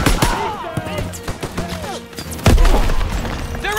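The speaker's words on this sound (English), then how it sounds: "Grenade out!" A grenade going off with a sharp, heavy thump in the WWII shooter Call of Duty: WW2, during the Stronghold mission, amid shouting soldiers and scattered gunfire.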